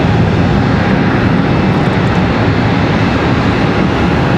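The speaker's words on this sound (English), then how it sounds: "this one here off to Las Vegas, American Airlines 2470" American Airlines jet departing Charlotte Douglas for Las Vegas, its engines a loud, close, continuous roar with dense low rumble and hiss, unbroken throughout.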